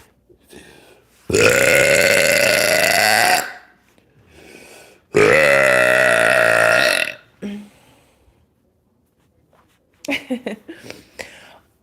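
Two long, loud, drawn-out burps come one after another, close to the microphone, with brief soft sounds between them and a short burst of noise near the end.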